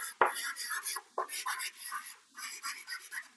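Writing on a board during a math lecture on quadratic polynomials, heard as a series of close, scratchy strokes and taps in short rhythmic bursts separated by brief pauses.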